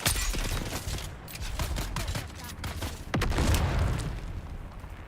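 A grenade goes off in the video game Dune Awakening amid ongoing gunfire, with loud booming blasts and rattling shots layered under a dense, noisy combat mix.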